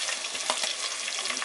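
Chopped onion sizzling steadily in a hot pan for chow mein, a dense even frying hiss with faint stirring scrapes, close and continuous with no talk.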